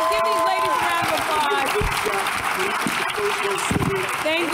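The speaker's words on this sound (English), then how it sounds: "Give these ladies a round of" A live audience at a panel discussion claps in a steady, sustained round of applause, with voices and cheers mixed into the clapping throughout.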